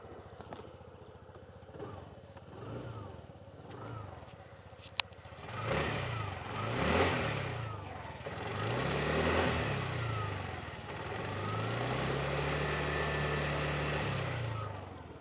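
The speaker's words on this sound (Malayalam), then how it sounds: "ഇതാണ് നമ്മുടെ എൻജിൻ സൗണ്ട് വരുന്നത്." A TVS Jupiter 125 scooter engine starts quietly and settles into a smooth, low idle with a few blips of revving, heard close with light background noise.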